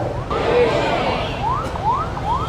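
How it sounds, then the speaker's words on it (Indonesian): An ambulance siren passes on a street, its rising wails repeating in a steady cycle at moderate distance over constant traffic rumble, with a voice briefly talking. "Ambulan lewat."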